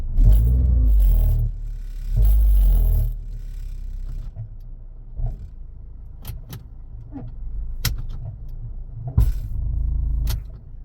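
A Ford Escape with a broken motor mount shaking hard: deep rumbling engine bursts and heavy low thuds, loudest at the start, then irregular knocks and clunks over a steady idle.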